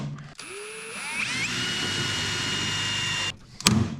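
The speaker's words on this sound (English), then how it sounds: "Once I've got the cable in there, then I'll rivet it in." A power tool whirs up against an alloy cable cover being riveted onto a fishing boat, a steady drill-like whine for several seconds before cutting off, followed by a sharp clack at the end.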